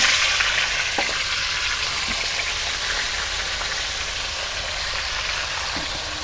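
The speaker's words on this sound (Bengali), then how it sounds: "তেলটা গরম হয়ে গেছে, মাছটা ভেজে নেবো" Fish frying in hot oil in a home kitchen, a steady dense sizzle with crackling pops that holds for several seconds, loud and close with no talking.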